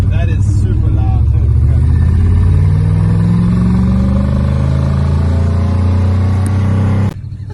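A Nissan Skyline engine without mapping holds a loud, steady high idle that barely rises, droning up close for about seven seconds before cutting down to a quieter rumble.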